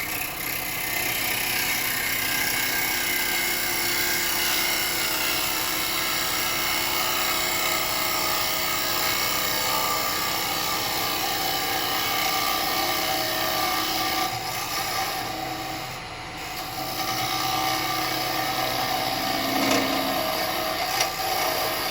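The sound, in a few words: square chisel turning a beech dish on a wood lathe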